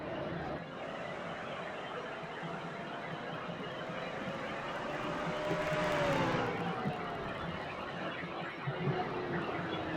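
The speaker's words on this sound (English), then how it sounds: "You can hear the tires screeching and squealing there." Race cars at Martinsville in a 2003 stock car series race, engines droning through a corner with a rising and falling whine and tire squeal that swells midway, under a continuous roar from the track.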